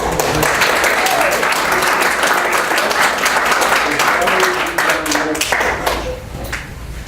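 At a town board meeting in Glenville, New York, the audience breaks into loud, close applause with many sharp individual claps, with some voices mixed in, thinning out over the last second or so.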